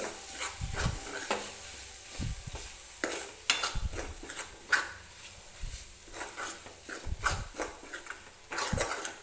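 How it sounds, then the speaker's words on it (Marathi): Dry spice masala roasting in a pan for a peanut curry, with irregular scraping stirs of a spoon over a low background sizzle, close and alone without speech. "सुरुवातीला हा मसाला आपल्याला छान असा भाजून घ्यायचा आहे"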